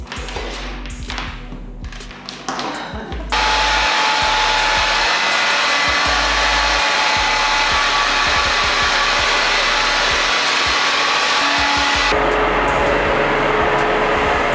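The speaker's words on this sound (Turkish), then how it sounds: "Artık saç kurutma işlemine geçebiliriz." A hair dryer blows steady, loud air while drying hair after a temporary cream hair dye, starting about three seconds in with rustling handling before it, and its pitch shifts partway through as the setting changes.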